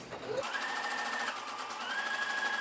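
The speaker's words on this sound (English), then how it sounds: "put our presser foot down, back stitch, and sew directly on your dart legs" Sewing machine stitching straight along the dart legs of a fabric pencil skirt, a steady close whirring hum that starts after a brief pause and runs evenly to the end, with no voices.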